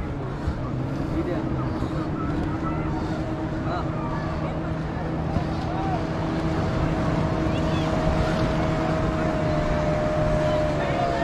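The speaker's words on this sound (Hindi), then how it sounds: "ये देखो बनाना राइड चल रहा है." A motorboat towing a banana boat ride at sea, its engine drone steady and fairly loud throughout, with wind and water noise and people talking over it.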